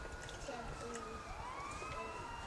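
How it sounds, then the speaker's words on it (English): Distant police sirens in the video game GTA wail with rising and falling tones over a steady hum of background noise, their sweeping pitch faint but continuous throughout. "And there's sirens."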